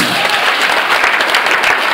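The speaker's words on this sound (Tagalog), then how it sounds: "Lahat ng tumutulong, pumalakpak sa Panginoon." A church congregation claps together in a dense, steady burst of applause that fills the space evenly for the whole moment, with no break in the sound.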